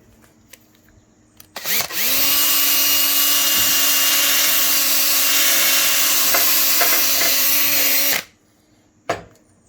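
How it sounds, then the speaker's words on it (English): A power drill whines at a steady high pitch for about six seconds, cleaning built-up crud off the mower deck of a 1980s John Deere 180, starting and stopping abruptly, with a brief short burst near the end and a few small clicks around it. "I tried to get my drill"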